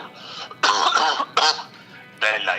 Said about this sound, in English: it does sound like a pretty bad cough